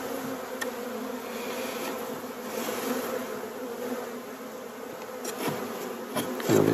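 Honeybees buzzing around an opened hive during queen rearing, a dense continuous drone of many insects close by, steady throughout with a few brief louder passes near the end.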